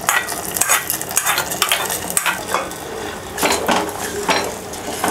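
Hot tempering poured into tapioca curry and stirred: repeated metal spoon clanks and scrapes against the pot over a steady sizzle, with a louder flurry of stirring near the end.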